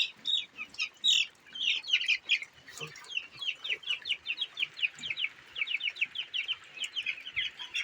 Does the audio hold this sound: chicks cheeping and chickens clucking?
yes